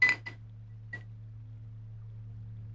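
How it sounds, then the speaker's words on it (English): Ice cubes clink against a glass of gin in a few light, brief taps close by, the first two near together and one more a moment later, over a steady low hum. "So you are going to be hearing a lot of ice clinking around,"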